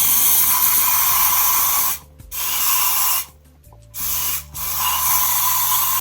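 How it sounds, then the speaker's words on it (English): Bursts of hairspray hiss loudly into a wig cap, a long continuous spray followed by several shorter puffs separated by brief pauses, close and dry. "I'm gonna take this and spray it into the cap."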